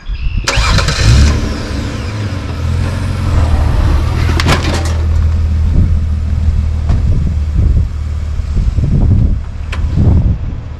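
A car's engine starts and idles, then drives off the ramps in a garage, a loud close rumble that holds steady with small revs and a few clunks along the way.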